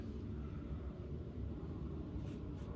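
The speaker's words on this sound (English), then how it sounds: "Planes are starting to pass overhead again." Airplanes passing overhead on an overcast evening, heard as a low, steady, distant rumble that holds evenly throughout with no clear rise or fade.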